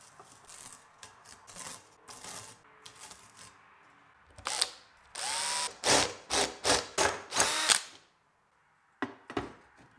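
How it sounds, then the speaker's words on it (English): A 3mm drill bit bores screw holes in a marked panel, a string of short, loud, whirring bursts close by, with lighter clicks and handling before them and a brief pause near the end. "the screw holes are once again marked and drilled out with a 3mm drill bit"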